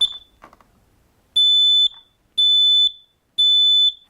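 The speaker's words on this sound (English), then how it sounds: "press and hold the button. It'll cycle through its alarm and then it'll shut off" Three loud, piercing smoke alarm beeps, each about half a second, evenly spaced, following a few faint clicks and rustles.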